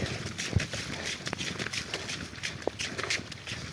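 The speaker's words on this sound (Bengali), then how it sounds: "আমি কিন্তু দৌড়াইতেছি হ্যাঁ ক্যামেরা হাতে নিয়ে" Footsteps of a person running through rain-soaked, waterlogged ground while holding a camera, a quick uneven rhythm of close splashy steps with a few sharper thumps over a steady wet background.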